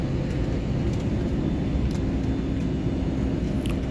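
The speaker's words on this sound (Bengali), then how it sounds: "অবশেষে আমাদের বিমানটি অবতরণ করল মুম্বাই এয়ারপোর্টে।" Airliner landing at Mumbai airport after a flight from Bangalore, heard from inside the cabin as a steady, loud, broadband engine and airflow roar that holds unchanged throughout, with no voices.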